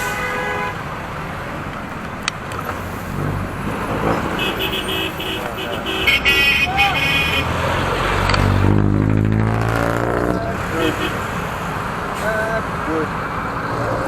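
Cars and trucks idle and move through a street intersection, engines rumbling near and far with scattered horn toots and a heavy vehicle passing close midway, while someone talks over the traffic.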